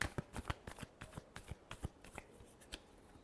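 Tarot cards being shuffled by hand make a quiet run of quick, crisp riffling flicks and soft slaps in an uneven rhythm, close by with nothing else around them.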